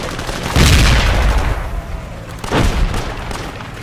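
Two heavy booming grenade blasts in the World War 2 video game Project Reality on Omaha Beach, one loud and close and a second a couple of seconds later, each trailing off into rumbling noise.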